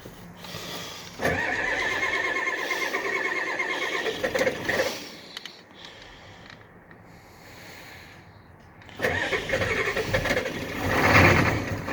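An engine cold-starts, cranking and catching, rough and loud, running unevenly for a few seconds with something shaking loose, falling quiet, then firing up again near the end.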